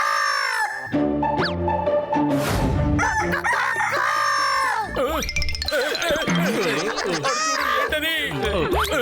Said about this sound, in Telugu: కోడి నుంచి కాపాడండి, కోడి దగ్గర నుంచి కాపాడండి